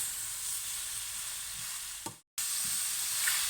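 Mushrooms fry in a pan for a vegan mushroom curry, giving a steady, close sizzle with faint stirring that breaks off briefly near the end and then resumes.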